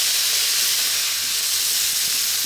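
Cooked rice tipped into a pan of sizzling stir-fried vegetables, a loud continuous hiss filling the scene from start to finish, close and steady with no voices.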